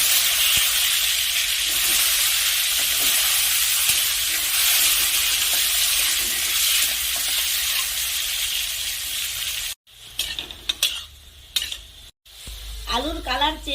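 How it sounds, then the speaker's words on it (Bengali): Potatoes fry in mustard oil with a loud, steady crackling sizzle for most of the stretch, then the hiss cuts off and gives way to scattered clatters and brief utensil knocks. "এখন আবার আমি সরিষার তেল দিয়ে দিচ্ছি, আলু ভেজে নেব।"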